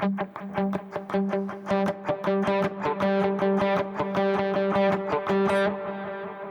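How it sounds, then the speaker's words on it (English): Distorted electric guitar with a delay effect playing a rhythmic riff, each note trailing into repeating echoes that blur together, loud and continuous. "So if I play something with a delay"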